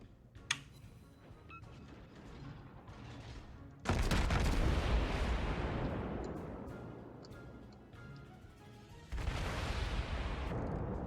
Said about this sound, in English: This next salvo is coming to me, man.